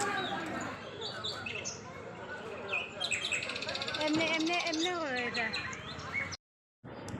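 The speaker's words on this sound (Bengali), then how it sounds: "কতগুলো পাখির আওয়াজ তোমাদেরকে শুনিয়ে দিচ্ছি" Many birds chirp and tweet together in a busy, continuous chorus, with a voice faintly underneath, before the sound cuts off abruptly near the end.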